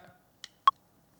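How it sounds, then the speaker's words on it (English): Two short isolated metronome clicks from a click track, the second sharper and louder, in near silence. "So here's the click track,"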